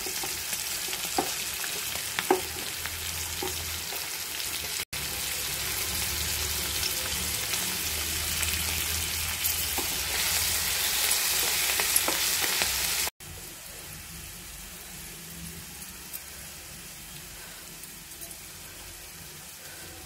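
Potatoes frying in oil for a green peas, tomato and potato curry, making a steady hissing sizzle with brief stirring noises, quieter after a cut near the end.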